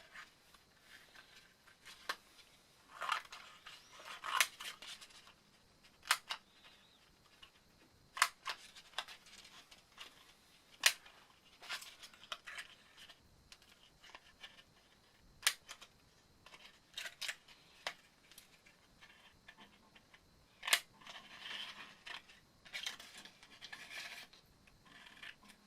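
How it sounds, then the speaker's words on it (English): Scissors cutting out paper shapes for a craft activity, heard as quiet, close, irregular snips and rasping cuts spread throughout, with no talking. "get a scissors and cut them out."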